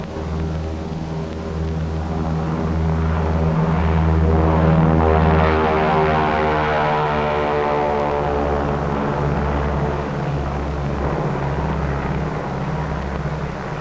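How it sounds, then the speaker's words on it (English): Propeller engines of the B-29 bomber Dave's Dream drone in a steady, loud, harmonic roar that swells slightly and holds throughout, with no voices. "the B-29 Dave's Dream, bomb-carrying aircraft"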